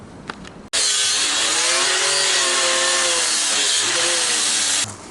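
A power sander works over a car body panel, stripping rust before filling, a loud continuous abrasive whir that starts abruptly and stops near the end, with faint tapping before it.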